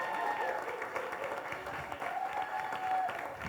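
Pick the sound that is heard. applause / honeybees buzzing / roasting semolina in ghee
applause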